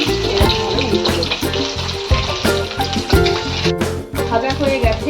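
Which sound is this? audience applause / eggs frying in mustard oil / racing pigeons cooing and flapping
eggs frying in mustard oil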